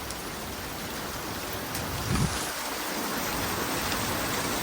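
Steady, dense summer rain falls continuously in strong wind, a broad even hiss with a brief low thud partway through.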